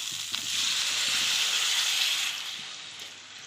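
Water poured into a pan of fried spice paste made with tomato, chilli powder, coriander and cumin sets off a loud, steady sizzle and hiss that gradually fades toward the end.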